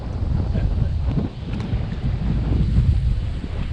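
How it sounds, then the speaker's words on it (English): Strong wind buffeting the microphone on a fishing boat in the Gulf of Mexico at high tide, a loud continuous low rumble with gusts and faint water sounds beneath. "It's high tide and it's very breezy out here."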